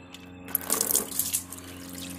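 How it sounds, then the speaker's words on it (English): CVT transmission fluid drains from a 2015 Honda Civic as liquid splashes and trickles into a pan after a brief pause, with irregular splattering against a low steady background hum. "Now we're going to drain the transmission."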